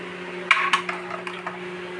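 Pot of rice set down on a kitchen stove: a couple of sharp metallic clinks followed by a few lighter taps, close and fairly quiet over a steady low hum.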